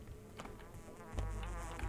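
Flies buzz close around the listener's ears in the video game Pathologic 2, a thin wavering drone that rises and fades in passes, heard alone with no talking.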